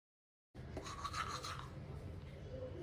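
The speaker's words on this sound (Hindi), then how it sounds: "यहाँ पर मैं आई हूँ ब्रश करने के लिए" Toothbrush scrubbing teeth in the morning, a close, quiet rhythmic bristle rubbing that starts abruptly after a moment of silence.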